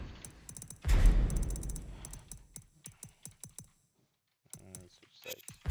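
Computer keyboard keys clicking rapidly during Tekken 8 play, crisp clattering taps in quick bursts and short runs, close and fairly clear, following a burst of noisier sound, with a gap of near silence and someone talking at times.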